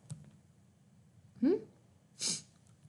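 A voice acts out a sneeze for a character, Gerald, who is allergic to pigs, giving a breathy intake and then a sharp, hissy burst, faint and close against a quiet hum.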